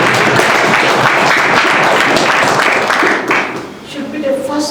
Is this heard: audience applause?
yes